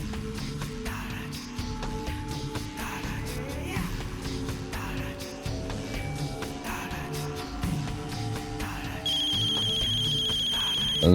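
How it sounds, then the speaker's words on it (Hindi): A telephone ringtone for an incoming call starts near the end of a dramatic scene, a bright repeating electronic tone sounding clearly over a low ambient hum and music bed. "अंसार गुल का फोन है।"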